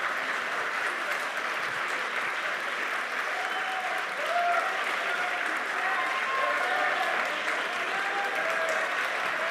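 A debate audience applauds steadily at the end of an origin-of-life event, sustained dense clapping with some cheering rising slightly midway, heard from within the hall.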